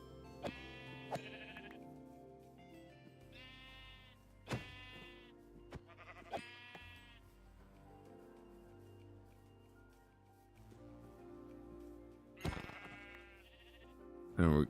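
Sheep in the video game Roseguard bleat repeatedly, with several clear, wavering calls spread across a quiet background, some nearer and louder than others.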